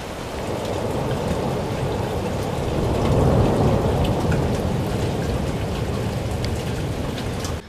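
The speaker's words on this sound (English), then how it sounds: "It's a whole new day, and it's raining outside." Heavy rain pours down outside during a Wisconsin storm, a loud, dense, steady wash of drops on surfaces that swells briefly in the middle, with no voices.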